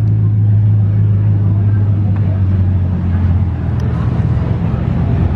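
A supercar convoy rolls past, led by a Bugatti Chiron with a Bentley Mansory following. A loud, close, continuous deep engine rumble fills the scene and eases slightly toward the end.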